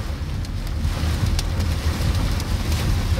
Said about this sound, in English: How bad it's raining